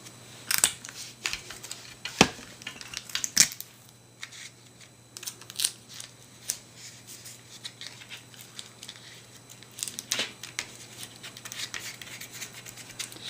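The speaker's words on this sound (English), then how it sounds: "and then you tape it again." Adhesive tape is applied to a handmade paper card, giving scattered sharp crinkles, taps and rustles of tape and paper at close range, with quiet handling noise in between.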